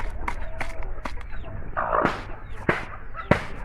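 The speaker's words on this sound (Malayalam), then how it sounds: "നമ്മളെ ഒറിജിനൽ അസീൽ കോഴിയാണ് അസീൽ പിടക്കോയി" An Aseel hen clucks a few times nearby amid scattered clicks and knocks, with a brief voice mixed in.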